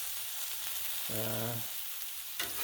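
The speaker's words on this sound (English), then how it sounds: "I threw in some rice and let it saute" Rice sautés on a Blackstone griddle for pork fried rice, making a constant soft sizzle with a brief low tonal hum partway through.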